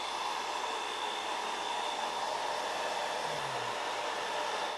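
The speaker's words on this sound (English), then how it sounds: "or if you wanna speed it up, use your hair dryer" A hair dryer blows continuously at close range, drying stain paint on a countertop. Its whine stays even and unbroken throughout, with no voices.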